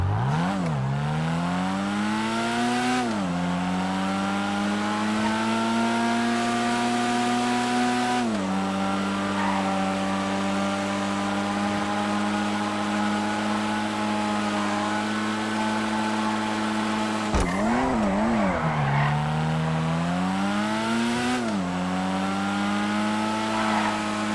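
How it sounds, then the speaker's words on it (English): A video game SE Sport two-seater car engine drones steadily during a test drive, revving up through several gear shifts with rising and falling pitch, sustained and fairly loud throughout. "Next up is the SE Sport. Let's test drive this thing out."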